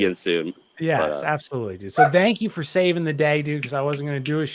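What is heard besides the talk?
None of the usual background noises is heard.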